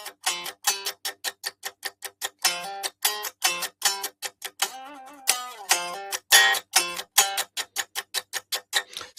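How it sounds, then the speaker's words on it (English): Unamplified electric guitar riff with the bare string sound heard acoustically in a room, a fast run of crisp, evenly spaced plucked notes with a thin, percussive attack and melody notes standing out, played alone with no talking. "So if I play without the amp sound here, you hear how those melody notes will pop out"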